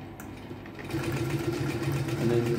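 A Solent H-305-LH-4 sewing machine runs through about eight thick layers of cloth, a steady motor whir that grows louder and busier partway in, close up with no talk.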